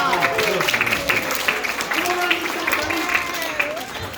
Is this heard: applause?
yes